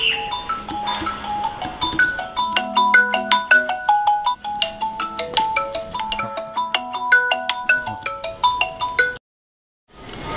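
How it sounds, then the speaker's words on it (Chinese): A mobile phone ringtone plays a bright, repeating electronic melody close by for several seconds, then stops suddenly, followed by a brief silence. "老公，电话。"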